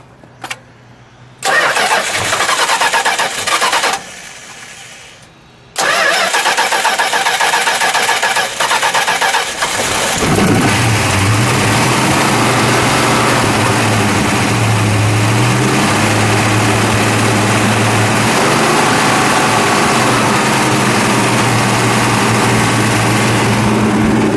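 A 1969 Dodge Charger R/T with a 426 Hemi V8 and four-speed cranks briefly, catches and bursts into a loud, close rumbling start, then settles into a lumpy, steady idle with no talking.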